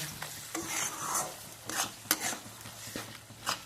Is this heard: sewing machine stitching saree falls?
no